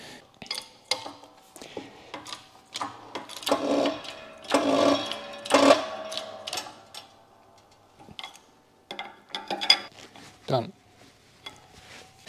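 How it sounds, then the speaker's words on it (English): A bearing being pressed back onto a Tesla Model 3 drive shaft in a Land Rover conversion workshop, heard as irregular metallic clicks, knocks and scraping taps in short clusters, with a person talking intermittently. "let's press the bearing back on."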